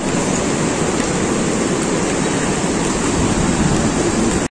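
Swollen Abdal stream overflowing its banks after a downpour, a loud, steady broadband roar of rushing floodwater that fills the scene continuously with no voices.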